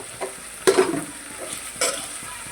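Basic spices being stirred into hot oil in a pan for a street-style ragda, giving a close, soft sizzle with two sharper scraping strokes of the spoon against the pan.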